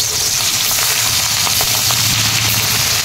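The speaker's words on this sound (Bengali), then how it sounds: "কড়াই সর্ষের তেল দিয়ে দিচ্ছি, তেল গরম হয়ে গেছে, মাছটা কড়াই দিয়ে দিচ্ছি।" Hilsa fish fries in hot mustard oil in a wok, giving a loud, dense, continuous sizzle and crackle with no voices.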